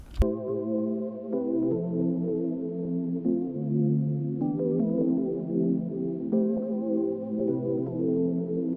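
Warm electric piano chords sustain and shift steadily, a mellow keyboard progression playing alone with no voices.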